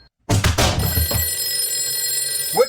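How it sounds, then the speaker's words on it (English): An old-fashioned telephone bell rings in one loud burst of rapid clanging near at hand, then its metallic ring decays, followed by a brief voice-like sound at the end. "On the telephone. The telephone."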